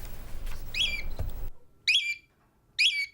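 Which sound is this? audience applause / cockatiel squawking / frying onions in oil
cockatiel squawking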